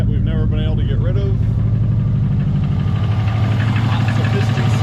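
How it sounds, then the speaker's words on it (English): A car engine idles with a persistent misfire and heavy piston slap, giving a loud, close, uneven knocking rumble that runs throughout, while a voice is briefly heard at the start. "this car just has a pretty consistent misfire that we've never been able to get rid of."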